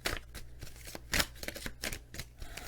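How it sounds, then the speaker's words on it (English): Oracle cards are drawn and shuffled from a deck, giving a series of soft, papery riffles and flicks in an irregular rhythm, close and fairly quiet over a low background hum. "let's pull out one of these oracle cards for additional messages"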